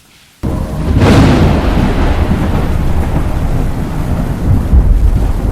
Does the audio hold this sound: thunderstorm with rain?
yes